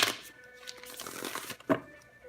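Tarot cards shuffled by hand in quick papery riffles and slides, ending in a sharper snap, close and moderately loud with no talking.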